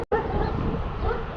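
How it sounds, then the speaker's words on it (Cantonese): A police K9 wolf-dog barks close and loud outside a restricted defence-ministry area, with rapid repeated barks and yips running through the clip under excited human voices. "屌你有狼狗啊"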